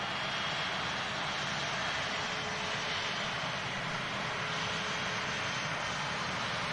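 A Qatar Airways Airbus A350 jet roars steadily with continuous broadband engine noise, loud and unbroken throughout, with no talk over it.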